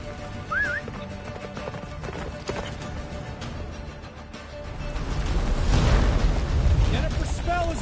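A horse gallops in The Witcher 3 during a snowy escape, steady hoofbeats under rumbling, blustery game noise that swells louder toward the end, with no speech.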